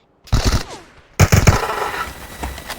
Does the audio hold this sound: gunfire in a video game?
yes